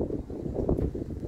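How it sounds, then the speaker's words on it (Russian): Wind on a sandy farm in the Emirates buffets the microphone with a low, uneven rumble and gusty roar, steady throughout with small surges. "Если вы слышите, ветер тут так задувает."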